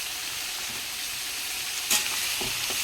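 Green chillies added to hot oil in a pan with onions, a steady bright sizzle throughout with a sharp spitting burst near the end, close and loud, no talking.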